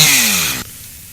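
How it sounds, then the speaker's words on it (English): A chainsaw sound effect roars briefly with a descending whine, then cuts off abruptly, leaving near silence. "Chainsaw."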